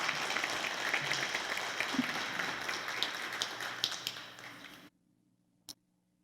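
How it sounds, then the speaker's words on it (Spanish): Welcoming applause from the audience at the opening of an international Cervantes colloquium at a university, a sustained crowd clapping for over four seconds that cuts off abruptly into near silence with a single sharp tap. "Un aplauso de bienvenida."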